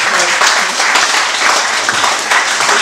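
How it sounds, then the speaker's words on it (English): Audience clapping at a community study group meeting, a steady dense wash of many hands that holds fairly even for about three seconds with small swells. "You deserve a clap."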